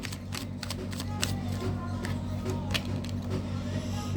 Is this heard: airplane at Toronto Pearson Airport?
no